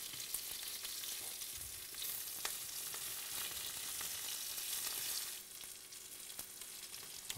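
King prawns fry in a hot pan with a dense, bright, steady sizzle close up, a few faint clicks of utensils, easing slightly toward the end, no talking.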